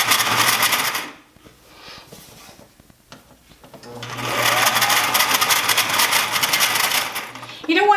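A sewing machine stitches fabric a quarter inch from the edge in two bursts, a steady rapid whirring run, a pause with soft handling noises, then a longer run that ends with a small clatter, close and fairly loud.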